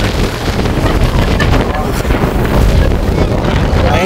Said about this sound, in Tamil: காற்று எப்படி அடிக்குதுன்னு பாருங்க.